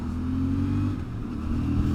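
The engine of a CF Moto 450MT motorcycle drones low and steady at low speed on throttle, dipping briefly and then pulling again, close and fairly loud, with no voices.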